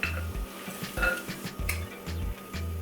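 Plantains are added to a pot and stirred, giving close metallic clinks and scrapes of a utensil against the pot over a pulsing background beat.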